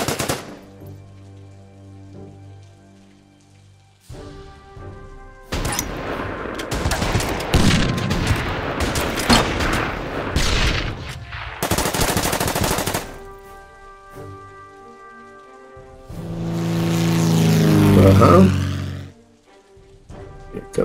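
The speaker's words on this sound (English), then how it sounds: "Aircraft gun." Bursts of aircraft machine gun fire in a U.S. Marines war video game, loud rapid volleys that come in several separate stretches with quieter gaps between them, ending in a swelling boom.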